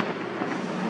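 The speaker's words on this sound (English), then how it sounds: "See, the fireworks are high and they come over the signal roof." Fireworks burst high overhead, a dense continuous crackling roar that fills the whole short stretch at steady loudness, with no separate bangs picked out.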